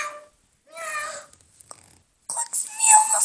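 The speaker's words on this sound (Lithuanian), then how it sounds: "Koks mielas mažas katinėlis." A small kitten gives a few short, high meows separated by pauses, close by, with soft rustling between them.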